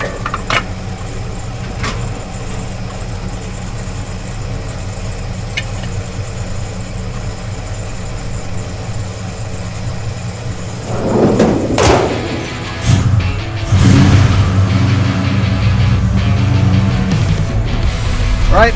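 A car fitted with a double pumper carburetor idles steadily with a low drone, then the engine note swells as it revs louder near the end, with some mechanical clunks mixed in.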